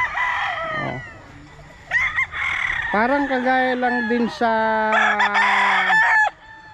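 Gamefowl roosters, Green Legged Gilmore among them, crow loudly one after another on a game farm, with long drawn-out calls overlapping and someone speaking briefly between them.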